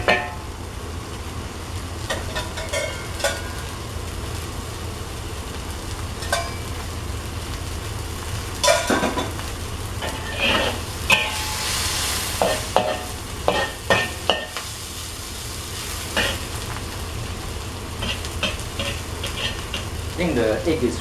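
An egg fries in oil and is stirred and scraped in a pan, a steady sizzle running throughout with repeated sharp utensil scrapes and taps, loudest in the second half.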